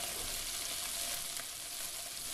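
Capers sizzle softly in browning butter in a trout pan, a quiet, even crackle that continues without a break.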